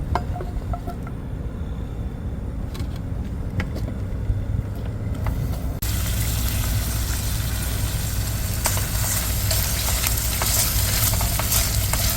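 Shrimp frying and sizzling in a pan inside a car, with a loud, steady hiss that starts suddenly partway through over a low, constant rumble like an idling engine.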